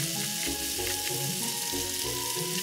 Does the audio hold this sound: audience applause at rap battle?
no